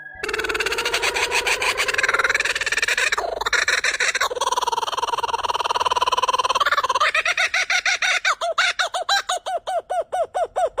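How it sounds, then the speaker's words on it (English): Kookaburra call, a loud raucous laughing chorus of rapid cackles that swells and breaks into a fast rhythmic series of hoots toward the end, close and alone. "Kookaburra."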